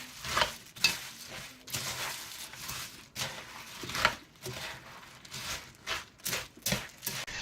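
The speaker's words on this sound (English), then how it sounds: "Mix until all the cornflakes are covered" Cornflakes being stirred into melted chocolate for chocolate crunchies, a steady run of soft scraping and rustling strokes close by, with brief pauses between turns of the spoon.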